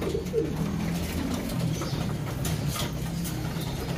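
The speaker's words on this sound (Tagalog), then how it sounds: "May mga ilan po kami rito, 2 kalapati." Pigeons coo steadily in low, throaty bursts, close by, over a constant background hum with some faint rustling.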